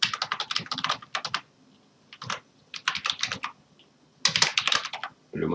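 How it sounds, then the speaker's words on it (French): Login credentials being typed on a computer keyboard: quick bursts of close, crisp key clicks separated by short pauses, alone without talk. "je vais pouvoir taper mes identifiants"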